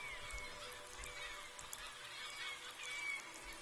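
A flock of birds in the game Besiege gives repeated faint goose-like honks over a steady windy background hiss, scattered calls coming from a distance.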